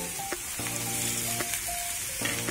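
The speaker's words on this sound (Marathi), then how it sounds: "आता ही जी कंटोळी आहे ती आपण टाकूया" Kantoli (spiny gourd) pieces hitting hot oil with spices in a pan give a steady, close sizzle, with brief bursts and scraping as the vegetable is stirred in.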